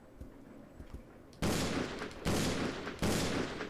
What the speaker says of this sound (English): What if we take the hand cannon with Billy?